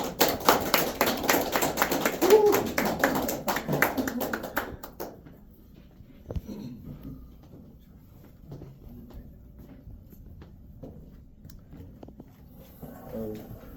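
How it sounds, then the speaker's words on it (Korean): A crowd bursts into loud, sustained applause for about five seconds, then the clapping dies away into a quiet room with faint scattered noises. "우리 이렇게 힘찬 환영의 박수로 모시도록 하겠습니다."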